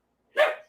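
A dog gives one sharp, fairly loud bark, close by, after a moment of silence.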